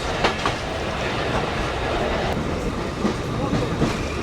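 Inside a hot commuter express train running from Rajshahi to Rohonpur, a loud, steady rumble of the carriage fills the air, with rhythmic wheel clatter and occasional clicks over the track joints.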